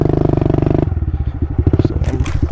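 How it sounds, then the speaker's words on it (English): Pit bike riding through overgrown desert brush in the hills, a loud close engine burble that drops as branches scrape, crackle and thump against the bike in quick bursts. "And we're riding through the desert right now."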